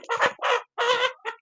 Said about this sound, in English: I have some chickens that are ready,